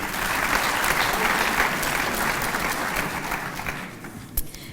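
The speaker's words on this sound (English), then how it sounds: "So a round of applause for Mzimvubu" Audience applause at a ministerial speech on a new draft water and sanitation master plan, sustained steady clapping from a large crowd that tapers slightly near the end.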